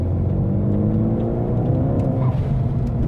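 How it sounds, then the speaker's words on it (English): Ford Focus ST rolling on the throttle in third gear from about 20 mph, a steady engine drone with climbing harmonics and road rumble, no voices over it. "So I'm doing 20 now, this is 3rd gear. If I just kind of roll on the throttle."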